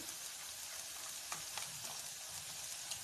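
Chopped capsicum and cabbage stir-frying on medium flame for egg fried rice, a continuous quiet hiss of frying with a few light stirring clicks, close by and without speech.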